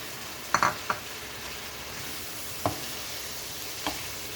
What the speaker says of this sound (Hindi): अब मैं ये डाल रही हूँ टमाटर।